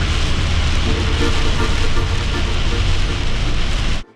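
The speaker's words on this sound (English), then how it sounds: "After a week of sun, we got the rain." Heavy rain falls steadily on a dark afternoon around an RV, a loud dense hiss with a low rumble underneath that cuts off abruptly at the end.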